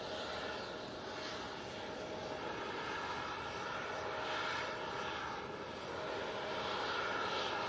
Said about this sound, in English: Turkish Airlines just touching down and rolling out.